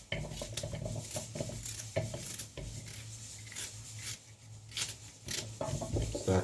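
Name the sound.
cutting up carrot for Jamaican vegetable pot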